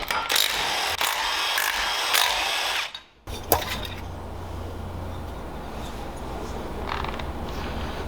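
Power tool loosening a bolt on a Predator 212cc mini bike: a loud, steady buzzing whir runs for about three seconds, stops briefly, then picks up again at a softer, continuous level with a few scattered clicks.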